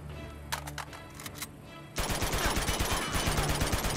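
Gunfire in the video game Uncharted, set in Borneo: a few sparse shots, then from midway a dense, loud burst of rapid automatic fire that continues to the end, with no talking.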